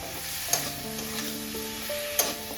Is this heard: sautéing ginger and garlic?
yes